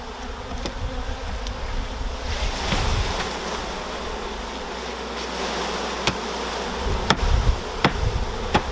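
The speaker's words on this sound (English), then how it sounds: "now all we're going to do is dump the bees into the box" Honey bees from a new package being dumped and shaken into a hive box, a dense steady buzzing hum from the swarm with a few knocks and bumps of the box, close and continuous with no talking.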